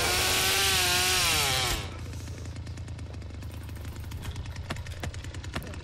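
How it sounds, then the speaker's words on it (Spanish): A roaring chainsaw in The Texas Chain Saw Massacre video game, loud at first with a rising whine, then dropping back into a lower rumble beneath scattered impacts and game noise. "la sensación de tener al tío con la motosierra detrás no me la quita nadie"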